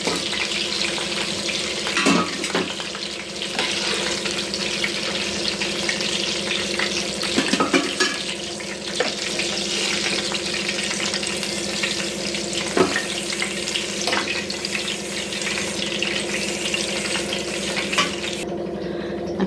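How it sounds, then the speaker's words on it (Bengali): Chicken meat frying in a pan for khichuri, a dense, continuous sizzle with occasional stirring scrapes, loud and close throughout with no talking. "মাংসটা সুন্দর করে ভাজা হয়ে গেছে"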